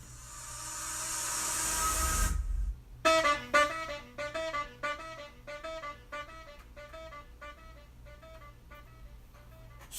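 Riser sound effect in a 90s boom bap beat: a loud rising noise swell for about two and a half seconds cuts off, then a rhythmic sampled loop with regular hits continues alone, with no talking.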